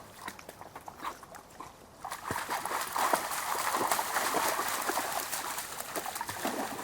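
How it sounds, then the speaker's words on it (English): A happy dog whimpers and pants close by after exercise and rollerblading on a walk in the woods. The breathy, steady sound begins quietly and grows fuller, with no talking. "That is one happy dog."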